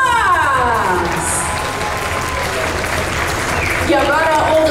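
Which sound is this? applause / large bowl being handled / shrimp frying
applause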